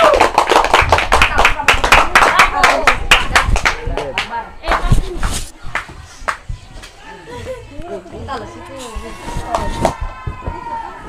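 Seventh-grade students in an Indonesian-language classroom clap for a performing group, a rapid burst of sharp, close hand claps in the first few seconds, then scattered claps thinning out under children's chatter and voices.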